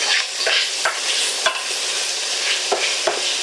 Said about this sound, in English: Gonna cook it about 6 to 7 minutes so it gets all nice and brown. Stirring occasionally.